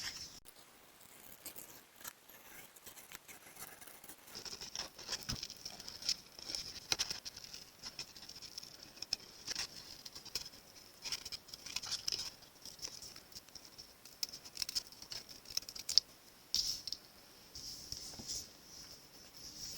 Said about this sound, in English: now I'm going to use my paper snips and just trim around that real quick